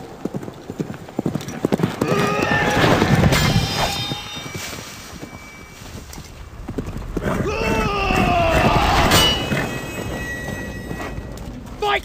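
Horse hooves clip-clop in a film scene, rhythmic strikes mixed with snorts and whinnies, while voices speak over the action and the hoofbeats rise and fall in intensity.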